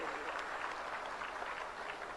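A crowd at a Digambar Jain unity conference claps steadily, a continuous wash of applause at moderate distance for about two seconds.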